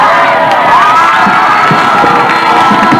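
Crowd at a 1982 high school football game in Arcadia, Rio Hondo Prep against Templeton, cheers and shouts continuously as the final seconds run out, a loud, dense roar with whoops and raised voices throughout.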